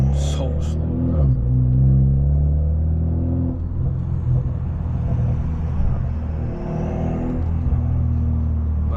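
Low, steady exhaust rumble from a straight-piped, catless BMW 530 cruising on the road, continuous and close throughout with a brief talking voice near the start.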